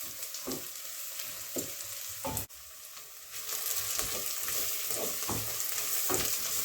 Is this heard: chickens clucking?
no